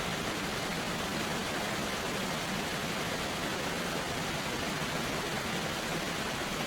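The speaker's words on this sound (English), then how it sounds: "Being on the river is so nice and the sounds are soothing." A river brook in Vermont flows steadily, a soft continuous broadband rush of water with no breaks, heard alone without voices at a gentle, even level.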